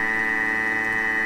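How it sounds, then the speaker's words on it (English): A Thermomix kitchen appliance alarm rings as a steady, loud, continuous electronic tone, heard alone with no talking. "That's my alarm going off, so my Thermomix stayed on for me."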